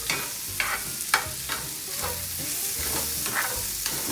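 Mushrooms cook down in a pan with a close, steady sizzle and repeated scraping stirs of a utensil at a loose rhythm.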